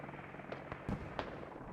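Explosions going off along a main road during a Squad military shooter battle, a few sharp booming bursts spaced apart over a steady background of combat noise.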